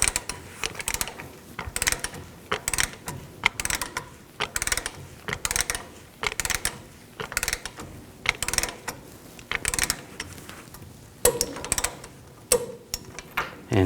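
A ratchet wrench tightens the lower control arm nut on a 2007-2014 GMC Sierra 3500 HD, giving close, loud bursts of rapid clicking that repeat in a steady rhythm with short pauses, with no talk.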